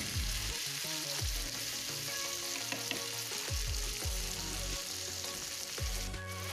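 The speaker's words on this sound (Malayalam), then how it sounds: "ഇനി നമുക്ക് നന്നായി ഇളക്കി കൊടുത്തതിന് ശേഷം ഒന്നും കൂടെ ഇത് വഴണ്ടി വരണം" Tomato chutney sizzles steadily in a pan while a spoon stirs and scrapes it in a repeating rhythm, heard close and alone.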